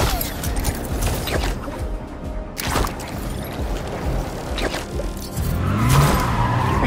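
Reckless car driving in Marvel's Spider-Man 2, with an engine roaring and whooshing past, a few crashing knocks and a tire squeal near the end, all loud and close with little talk.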